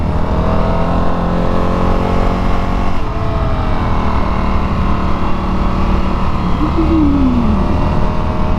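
An Indian FTR motorcycle on a test ride, its engine droning steadily and loudly throughout with continuous wind rush, a slight pitch shift as the throttle changes, and no talking.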